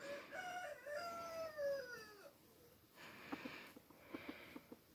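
Yellow-legged gamefowl, a rooster and hen, call with a long drawn-out crow that slides downward, followed by a few short clucking notes, faint and at a distance.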